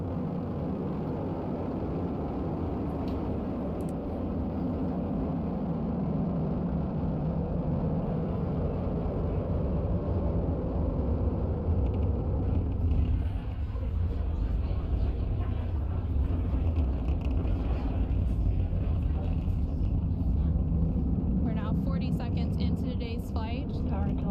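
Steady, continuous roar of the SpaceX Falcon 9 rocket engines during the Crew 10 launch, a dense low rumble that holds throughout with a commentator speaking over it.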